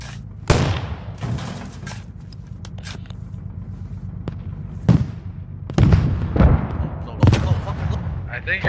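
Mortar rounds land in the game Squad: several heavy booming impacts at irregular intervals over a constant low rumble of distant battle noise.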